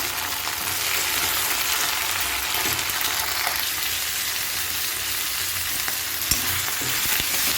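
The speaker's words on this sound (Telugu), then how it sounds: "మొత్తం మంచిగా వేయించుకొని ఆకంతా ఆయిల్లో ఉడికేటట్టు" Drumstick (moringa) leaves fry in hot oil with a loud, continuous crackling sizzle close up, broken by an occasional clink of a spoon.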